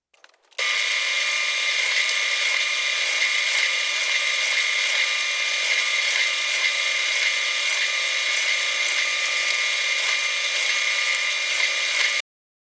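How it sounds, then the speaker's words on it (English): A power drill runs in one unbroken, steady whine while boring holes in plywood, starting abruptly and holding an even pitch up close for about twelve seconds before stopping sharply. "The next thing to do is to drill holes at all of these intersections of the lines and the grooves."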